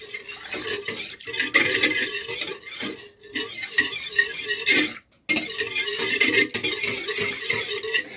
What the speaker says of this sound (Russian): Перемешаю, чтобы дрожжи хорошо разошлись